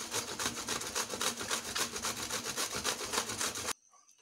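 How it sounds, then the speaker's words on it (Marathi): Bitter gourd (karela) is grated by hand in a kitchen, a rapid, rhythmic rasping of steady back-and-forth strokes close by that stops abruptly near the end. "आणि आता हे कारलं किसून घ्यायचं आपण."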